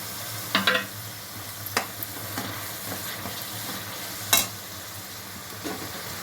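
Large tomatoes and green chilli pieces frying in oil for a mutton gravy curry, a steady soft sizzle with a few clinking stirs of a utensil against the pan, no talking.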